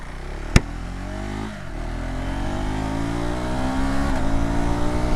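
A KTM Adventure 390 motorcycle engine revs on its own after one sharp click, the pitch climbing and holding at a steady, loud drone with harmonics that rise and fall as the throttle moves.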